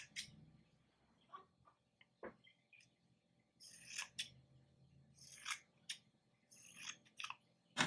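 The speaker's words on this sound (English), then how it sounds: "I am just going to cut a little corner of cheesecloth." Scissors snip a small corner from a piece of cheesecloth that will cover a sourdough starter jar. Several quiet, crisp cuts come in separate bursts, close by.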